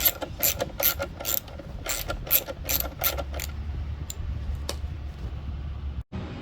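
A ratchet tightening screws on the glove box door latch of a 1970-1981 Firebird Trans Am: quick bursts of close, crisp clicking for about three seconds, then a low mechanical hum and a single faint click.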